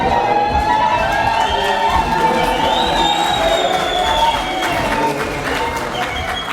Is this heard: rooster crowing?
no